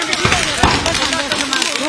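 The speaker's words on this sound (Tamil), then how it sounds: "இந்த மாதிரி பட்டாசு வெடிக்கிறது" Firecrackers burst on a Diwali night in Chennai: a few sharp bangs cut through a dense, noisy background with voices talking.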